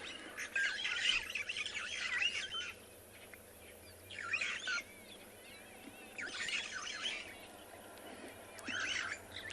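Starlings call near Chitwa Dam in bursts of chattering, squawking song, some close and clear and others softer, spread across a quiet background with a low steady hum beneath.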